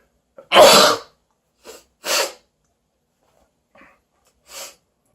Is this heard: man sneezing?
yes